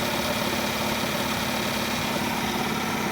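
A motor runs at 600 RPM, rattling against a nearby shelf, a steady loud hum with a fine buzzing vibration close by throughout.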